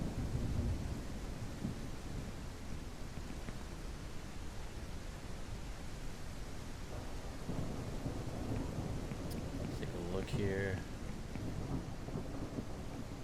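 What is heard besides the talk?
rain and thunder in the horror video game The Crimping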